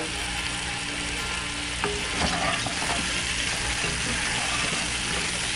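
Garlic cloves frying in a Dutch oven outdoors, a continuous loud sizzle with a few clinks and scrapes from stirring.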